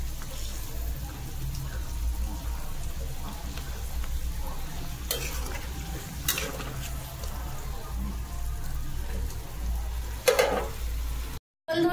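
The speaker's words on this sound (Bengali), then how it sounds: "জল দেওয়ার পরে মশলাটা ফুটে গেছে, মাছগুলো আমি ছেড়ে দেব।" Fish curry with spiced water simmers after the fish goes in, giving a steady, soft bubbling sizzle with a few louder clinks and stirring scrapes, then a brief silence near the end.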